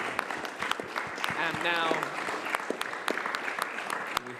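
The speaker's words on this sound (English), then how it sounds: "Give a big round of applause to our panel tonight." An audience at a particle physics panel event claps in a busy, sustained burst of applause, while a voice speaks briefly over it.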